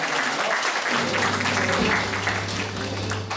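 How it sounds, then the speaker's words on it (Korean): Audience applause at the 28th founding general meeting of a Korean overseas war veterans' association rolls on loud and dense, with a low steady hum entering partway through. "여러분 힘찬 경려의 박수를 보내주시기 바랍니다."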